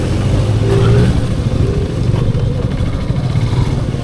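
A motorcycle rides through a road closed to other traffic, its engine a loud, close, steady low drone that swells slightly early on and runs unbroken to the end, with no one talking.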